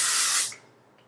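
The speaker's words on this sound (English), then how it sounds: "I'm going to take a little bit of this Oribe, what is this, Anti-Humidity spray" Oribe Anti-Humidity hair spray sprays in one short, loud, close hiss that lasts under half a second and then cuts off, leaving a quiet room.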